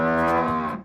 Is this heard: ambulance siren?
no